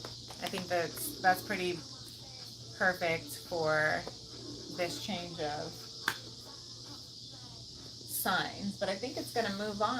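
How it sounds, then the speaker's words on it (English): Cicadas drone steadily in the background, a thin continuous buzz that carries on underneath someone talking at a relaxed pace. "we'll just listen to the beautiful cicadas singing in the background"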